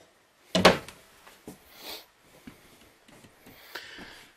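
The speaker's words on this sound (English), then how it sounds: "You've got a couple drawers here in the kitchen area. Again, full extending ball bearing drawer guides." Kitchen drawers on full-extension ball-bearing guides in a 2018.5 Forest River R-Pod 180 travel trailer are opened and shut: one sharp close knock, then several softer slides and bumps nearby.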